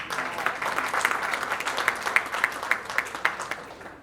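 An audience at a keynote speech applauds, with steady clapping and a few louder individual claps standing out near the listener, no talk over it.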